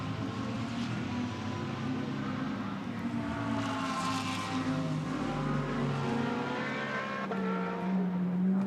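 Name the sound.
Lamborghini GT race car at Barcelona circuit qualifying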